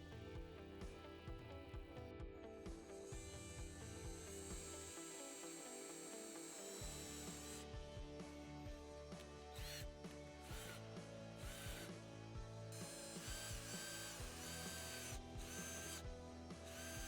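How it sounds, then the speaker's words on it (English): A power drill whirs in bursts while boring two holes to mount a Garmin BC 40 wireless backup camera on a UTV, its pitch shifting as it bores, with short pauses between runs and a ratcheting mechanical texture. "I am going to drill 2 holes"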